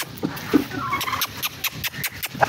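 Turkeys gobble in a short burst of repeated, rattling calls amid a flock of chickens and turkeys at feeding time, fairly close and loud with no talking.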